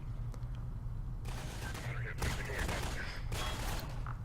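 Enemy gunfire in the video game Half-Life 2 comes in loud bursts of rapid fire separated by short breaks, with a low rumbling game background underneath.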